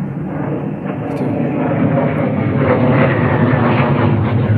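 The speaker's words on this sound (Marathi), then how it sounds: "इथला लाडू विमान चाललंय बघा." An airplane passes overhead above green hilly countryside near Ganesh Gad, making a loud, steady engine rumble that swells slightly and continues for the whole stretch.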